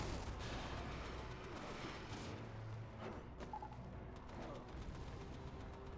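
Rumbling blasts and thuds from incoming missiles in a New York survival video game, several heavy impacts with low booms and crackle, moderately loud throughout with no talk over them.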